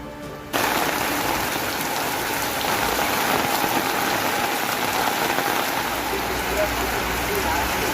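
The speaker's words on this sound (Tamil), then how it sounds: "திருவண்ணாமலை மாவட்டத்தின் பல்வேறு இடங்களில் கனமழை." Heavy rain pours steadily in Tiruvannamalai district, Tamil Nadu, a dense, loud, continuous hiss of drops on surfaces that lasts through the whole stretch, with a newsreader speaking over it.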